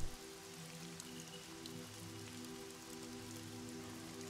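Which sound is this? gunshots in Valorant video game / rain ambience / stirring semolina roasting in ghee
rain ambience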